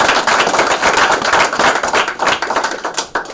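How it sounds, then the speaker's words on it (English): An audience at a health institute graduation ceremony claps hands loudly and steadily, dense overlapping claps filling the whole few seconds. "Can we get a bigger hand clap for them?"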